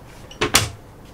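A cabinet door inside a Winnebago Mosman family bunk caravan is opened and closed, two quick close knocks about a tenth of a second apart in a quiet interior.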